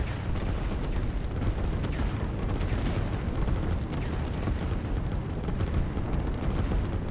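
Artillery fire in a real-time strategy game, a dense continuous rumble of distant booms and crackling shots layered into a steady battle din with no pauses.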